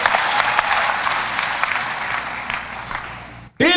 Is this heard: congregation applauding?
yes